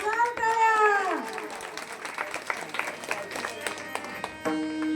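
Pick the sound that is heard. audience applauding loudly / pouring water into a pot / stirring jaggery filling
audience applauding loudly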